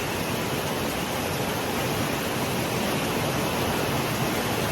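Floodwater rushes across a road during a heavy rainstorm, a loud, steady, unbroken roar of churning water with no voices.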